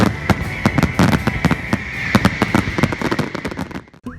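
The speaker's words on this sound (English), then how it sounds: "the Lendy Cows Week fireworks will be going off with a bang" Fireworks at the Cowes Week regatta burst in a rapid, continuous barrage of loud bangs and crackles with no voices, then cut off abruptly near the end.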